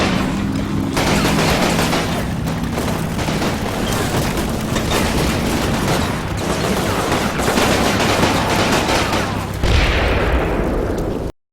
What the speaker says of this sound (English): They have a flak gun over here.